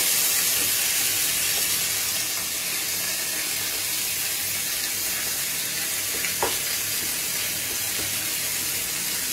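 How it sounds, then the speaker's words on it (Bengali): Onion frying in a pan with browned chilli and cumin, a steady close hiss and sizzle of hot oil with occasional stirring scrapes, no talking. "আমি এবার পেঁয়াজটা অ্যাড করে দিচ্ছি এর সাথে।"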